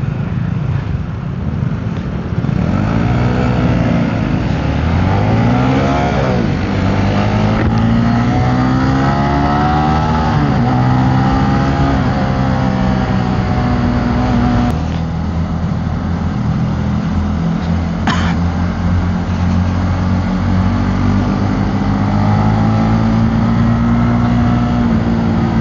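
A Yamaha RSX motorcycle being ridden drones loudly up close, its engine climbing and falling through repeated revs and gear changes with a constant wind-blown rush.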